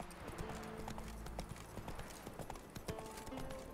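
The horse Roach clip-clops along in The Witcher 3, with rhythmic hoofbeats over a steady bed of game ambience. The hooves sound moderately close and go on throughout.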